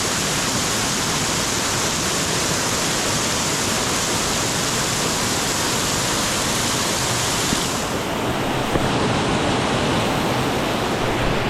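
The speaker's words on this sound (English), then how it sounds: "Just pouring down." Heavy rain pours down in a loud, unbroken hiss that stays constant throughout, dense and close, in a narrow alley in Macau.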